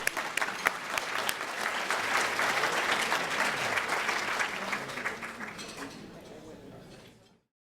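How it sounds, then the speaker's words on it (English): Conference attendees at a keynote session give a warm round of applause for a speaker. The dense clapping holds steady, then thins and fades out near the end. "Let's give him a round of applause."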